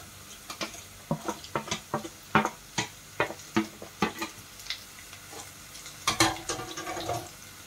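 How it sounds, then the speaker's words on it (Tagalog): Onions sautéing in a pan for a Filipino squid dish, with repeated sharp clinks and scrapes of a utensil stirring over a steady low sizzle, close and fairly loud, no talk. "Tuloy lang lisahin guys hanggang sa mag golden brown sila"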